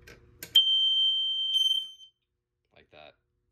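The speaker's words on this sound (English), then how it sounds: "if you hit the disable button while it's still an alarm, you can actually turn the horns back on" Horns on a Fire-Lite MP-12 fire alarm panel give one sustained, piercing high-pitched tone of about a second and a half in a quiet room, followed by a brief voice.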